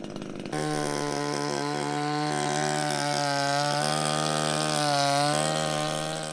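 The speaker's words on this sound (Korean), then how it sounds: "비탈에서 위험을 무릅쓰고 나무를 잘라내는 데는 특별한 이유가 있습니다" A chainsaw cuts trees on a steep slope near a South Korean front-line guard post, its engine droning loud and close with a sustained buzzing whine that swells slightly as it bites into the wood.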